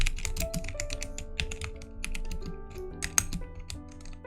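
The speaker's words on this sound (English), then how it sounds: "let me type in my processor" Fast, close typing on a computer keyboard, a dense stream of crisp key clicks with a few brief pauses and one louder keystroke near the end.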